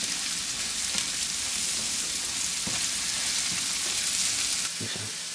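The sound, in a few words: stirring mushroom mixture frying in pan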